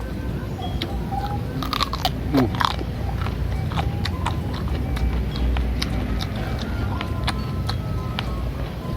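Crunchy chewing of raw papaya leaf stalk picked from a garden, with repeated crisp bites and crackling munches close to the mouth, steady throughout under low background noise.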